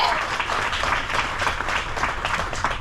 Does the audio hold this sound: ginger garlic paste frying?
no